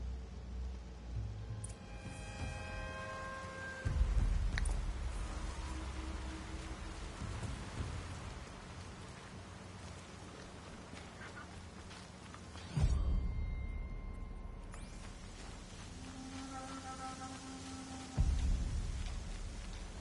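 Steady rain falls throughout while deep thunder rumbles roll in a few times, low and heavy, with no one speaking, in the video game Horizon Zero Dawn.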